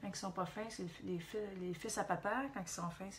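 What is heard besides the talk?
No distinct noise like a dog, phone or traffic.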